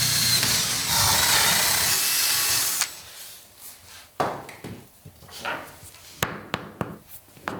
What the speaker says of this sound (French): Nous perçons avec un foret diamanté dans le carrelage en grès cérame fin et utilisons ensuite un foret